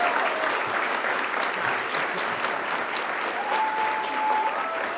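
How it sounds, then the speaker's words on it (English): A round of applause for Team Rubicon at the 2026 Tempe MLK Diversity Awards ceremony, with a large audience clapping steadily and loudly throughout, broad and sustained without breaks. "let's do another round of applause for Team Rubicon"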